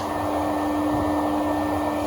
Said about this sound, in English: turn our vacuum on.